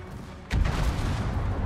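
Warship naval gun firing in World of Warships: a sudden heavy boom about halfway through, followed by a sustained low rumble that lingers loudly to the end.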